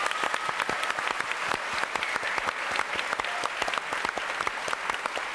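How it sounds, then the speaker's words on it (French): A French TV studio audience applauds a contestant on a variety game show, a dense steady run of many hands clapping, close and even throughout with no talk over it. "quelques applaudissements"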